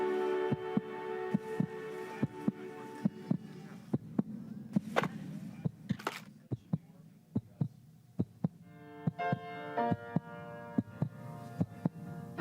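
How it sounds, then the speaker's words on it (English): Children's heartbeats set into a song: a steady run of soft, deep thumps paced like a pulse, with sustained tones and hum layered beneath and around them throughout. "This song was created with heartbeats of children in need."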